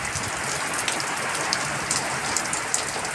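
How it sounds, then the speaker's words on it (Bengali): Heavy storm rain pours steadily and densely outdoors, a constant loud hiss of drops beating on surfaces with no voices over it. "বাইরে খুব ঝড় বৃষ্টি হচ্ছে"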